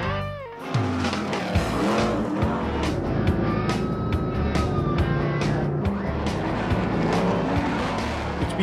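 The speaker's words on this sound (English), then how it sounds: "Where else can you see full-size trucks packing 800 horsepower racing side-by-side, nose-to-tail, getting major air?" Full-size off-road racing trucks with 800-horsepower engines roar past in a steady, loud engine drone with tires squealing and revs rising and falling, racing close together without talk.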